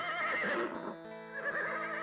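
A horse neighing sound set within a Gujarati devotional song to Ramapir, with the whinny blending into the sustained singing and music rather than standing out alone.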